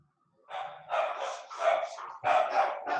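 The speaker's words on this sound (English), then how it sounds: "There's the dog barking at us" A dog barks repeatedly in a rapid series of close, loud barks grouped in bursts, with background room quiet during a meeting call.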